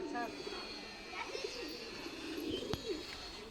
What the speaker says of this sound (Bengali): ওই যে পায়রাটা আনছে